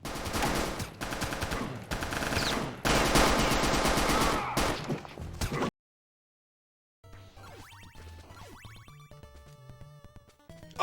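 Bursts of rapid gunfire from the game Star Trek: Judgment Rites, loud and close, clustered shots for several seconds, then a short silence followed by quieter game music with occasional effects.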